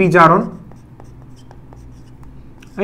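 Chalk or marker taps and scratches on a board while a chemical equation is written, brief strokes after a short burst of a teacher's voice at the start.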